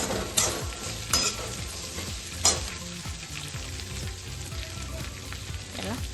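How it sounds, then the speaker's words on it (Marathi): Okra and potatoes sizzle and fry in a pan while being stirred, with a steady hiss broken by a few sharp scrapes and clinks of the spoon against the pan. "त्याला 5 मिनिट परतून घेऊ"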